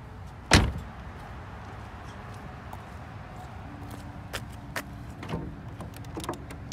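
One sharp thunk as the hood of a BMW E92 is popped open, close and clear, followed by quieter clicks and rustles near the car, with no talking.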